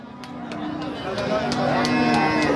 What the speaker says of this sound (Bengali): আসেন পরের গরুটা দেখাই দর্শকদের